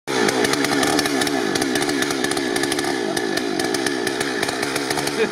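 A chainsaw roars steadily and loudly up close, its engine buzzing with a rapid chattering rhythm as it bites through a log.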